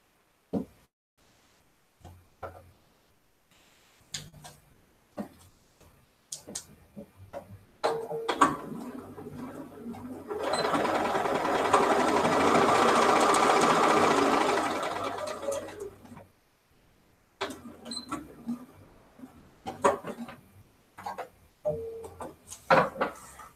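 A sewing machine stitches pieced quilt blocks in a steady, dense run lasting about six seconds in the middle, with quiet handling clicks and light fabric rustle before and after it.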